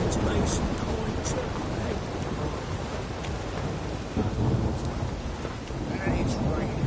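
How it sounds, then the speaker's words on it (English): A thunderstorm in Witcher 3: Wild Hunt, with heavy continuous rain and deep rumbling thunder rolling underneath, loud and enveloping, with brief faint game noises scattered through. "And it's raining again."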